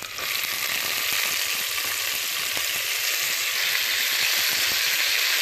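Chopped beetroot leaves hiss and sizzle steadily in a pan with onions for a greens curry with moong dal, a loud, continuous close frying sound with faint stirring.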